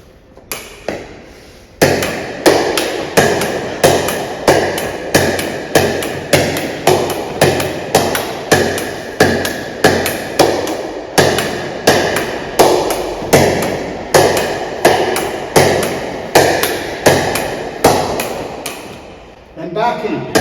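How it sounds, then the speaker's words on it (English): Pickleball forehand volleys hit against a wall make a fast, steady run of sharp paddle pops and wall rebounds, loud and close, that go on for about twenty seconds. "First, we're going to do forehand volleys."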